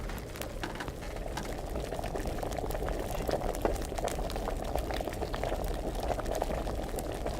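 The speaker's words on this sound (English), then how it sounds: "It's boiling." Nettle boiling in a cauldron in the video game Kingdom Come: Deliverance: a steady, dense bubbling and seething of liquid, even and continuous throughout.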